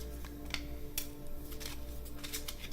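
Tarot cards are shuffled by hand up close, giving short bursts of soft, papery riffling clicks that come in quick irregular groups over a quiet background.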